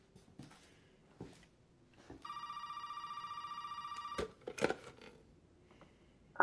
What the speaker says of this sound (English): It's not gonna stop ringing.